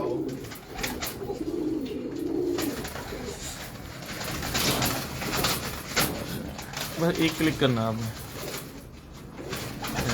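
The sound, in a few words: pigeons cooing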